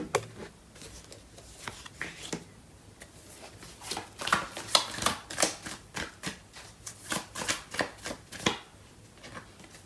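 Tarot cards are shuffled by hand in a quiet room, a rapid run of crisp riffling flicks and slaps that grows busier and louder midway, with no speech.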